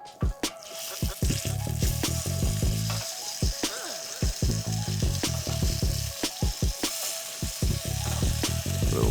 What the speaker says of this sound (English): I'm gonna press it down so that I actually get a nice sear on it.